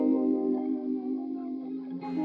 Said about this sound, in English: You can have a fast rise and fall on a low pass filter